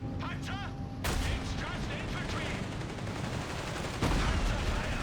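A shot from an anti-tank gun fired at a Panzer IV in the Company of Heroes 3 strategy game, a sudden loud broadband blast at about one second and another heavy impact near four seconds, over continuous battle noise with a voice at the start.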